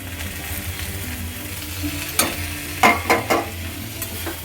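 Tomatoes go into a pan where garlic is frying in a little oil for a chickpea ghugni, giving a steady sizzle broken by a few sharp scraping stirs and clatters near the end.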